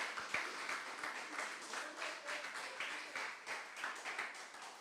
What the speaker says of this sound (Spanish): Regálele fuertes ofrendas de aplausos al Señor